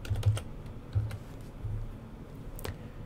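Scattered, quiet keystrokes on a computer keyboard, a few soft clicks in short irregular bursts with pauses between.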